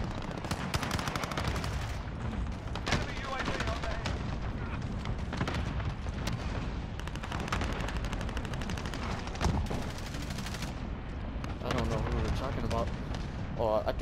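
Rapid gunfire from Call of Duty Modern Warfare, some from a sniper rifle, cracks in dense bursts that run through the whole stretch, with players talking over the shooting.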